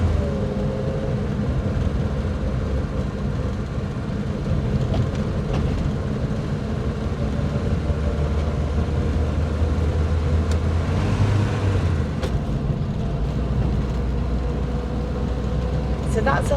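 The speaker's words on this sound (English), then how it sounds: "So that's us into the third gear there, so that's your top gear." A 1950s Standard Vanguard Phase 2 classic car cruising in top third gear, a steady low engine drone with road rumble throughout, while someone talks over it.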